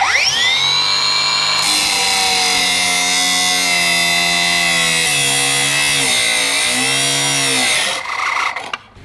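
A cordless Milwaukee 9-inch power tool cuts through steel neck rails, a loud continuous high-pitched whine that holds steady for about eight seconds, its pitch sagging and recovering under load before it suddenly cuts off.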